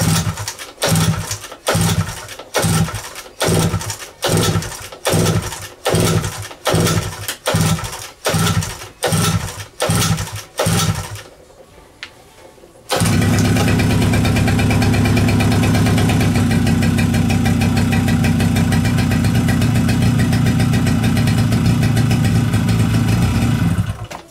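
A 1998 Suzuki LT50 quad gets about a dozen rapid rhythmic pull-start cranks, then after a short pause the small engine catches and runs at a loud, steady buzzing idle close up.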